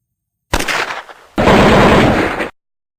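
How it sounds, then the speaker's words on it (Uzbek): Cartoon cannon and gunfire effect: a dense, loud burst of rapid shots and blasts, a brief dip, then a second longer and heavier barrage lasting about a second, with no talk. "Zambirak ovozi atrofni qopladi."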